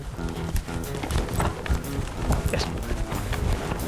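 Polo horses gallop during a match, hooves drumming in a fast, steady rhythm close by, mixed with general bustle and a brief spoken word.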